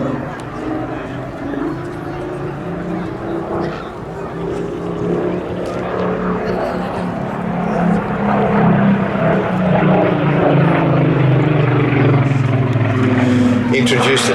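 A Rolls-Royce-engined Supermarine Spitfire PR.XIX flies at an air festival, its steady engine drone slowly swelling louder across the pass, with a commentator talking over it.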